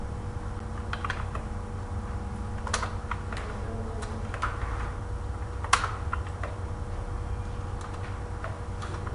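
Dummy data is typed on a computer keyboard, a steady run of close, crisp key clicks at an even rhythm with one sharper keystroke, with no voice present.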